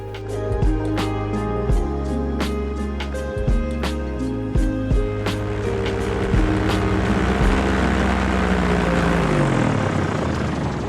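Paramotor engine droning steadily as it circles over a field and descends to land, a constant propeller hum with shifting pitch, close and loud, no talking.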